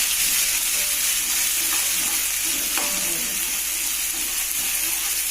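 Chicken intestines cook with spice paste in a pan, a continuous bright sizzle and crackle with occasional stirring clatters and a low steady hum underneath.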